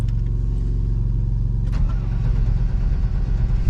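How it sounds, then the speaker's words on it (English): Chevy truck engine cranking and catching on a cold, icy morning in Georgia, a loud steady idle rumble filling the clip after a sharp start burst partway through, with no talking. "y'all want to see how easy a Chevy starts?"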